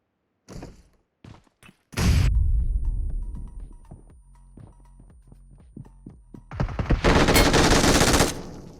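Groza rifle fire in a video game: a few short, sharp shots, then a loud sustained burst, a stretch of quieter clicks and impacts, and a second harsh, loud burst at the end.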